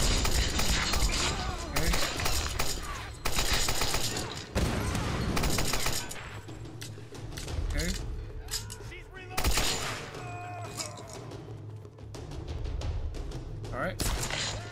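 Gunfire in the video game Tomb Raider, a loud on-screen firefight with repeated shots and booming blasts, mixed with voices talking and game action sounds.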